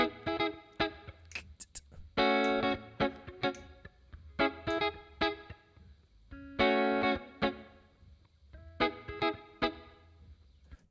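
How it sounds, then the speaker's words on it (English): Isolated electric guitar track from a song with reverb, rhythmic choppy chord stabs and short muted strums repeating in a funky pattern, clear and alone without voices. "Okay, there's some guitar in here as well."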